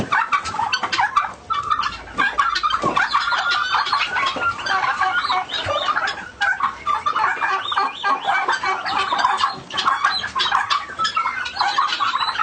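Turkeys and guinea fowl on a Bengal turkey farm, a dense flock calling continuously with overlapping clucks, chirps and gobbling close by, no talk over it.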